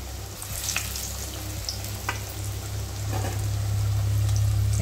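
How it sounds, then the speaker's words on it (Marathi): Alu vadi fry in hot oil in a kadhai on low heat, giving a continuous close sizzle that swells slightly louder toward the end, with occasional faint clicks. "आता कढईमध्ये आपण आपली एक एक वडी अशी सोडणार आहोत आणि आपल्या वड्या आपण मंद आचेवर खरपूस अशा तळून घ्यायच्या आहेत"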